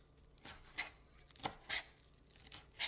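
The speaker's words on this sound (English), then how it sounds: "now that we've got the garlic all minced, we just need to chop up the parsley" A knife chopping fresh parsley on a board, six or so crisp separate cuts spaced irregularly, close and quiet against a near-silent background.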